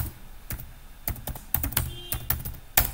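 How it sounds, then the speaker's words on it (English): Keys clack on a computer keyboard in a quiet room, a close run of irregular, sharp taps with short pauses. "type the desired value in the first cell"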